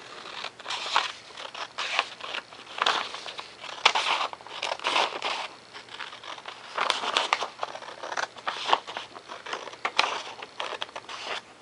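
Paper plans for a 3D profile foam plane being cut, with a steady run of crisp crinkling and snipping bursts close by, continuous throughout with short pauses and no talking.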